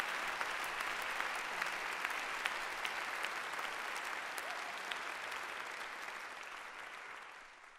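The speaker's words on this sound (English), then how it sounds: "Please give a round of applause once again" Sustained audience applause at the International Children's Peace Prize 2018 ceremony, a broad even wash of clapping from a large crowd lasting about eight seconds and tapering off slightly at the close.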